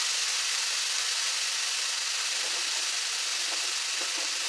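Bacon sizzling in a pan over medium-high heat, a steady loud hiss and crackle with scattered small pops, close and continuous with no talking.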